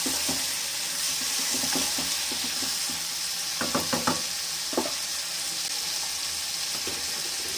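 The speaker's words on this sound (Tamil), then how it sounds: "தக்காளியை போடுவோம் தக்காளியும் போட்டு நல்லா வதங்க விடணும்" Ground tomato sizzles with onions in a pan for a Tamil meal maker gravy, giving a steady close frying hiss with a few soft stirring clicks and scrapes partway through.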